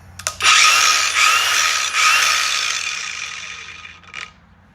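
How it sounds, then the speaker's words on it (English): A new angle grinder test-run in a workshop, a loud, close high-pitched whine that spins up after a few clicks, holds with slight dips, then winds down and stops, with no talking. "This is a new grinder I just got."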